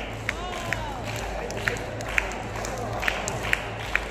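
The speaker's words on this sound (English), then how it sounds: "And that's how you get a huge round of applause for just skipping." At a skipping rope act during a juggling show at Lulu Mall in Bangalore, an audience claps in unison, sharp single claps at an irregular pace over a steady crowd murmur.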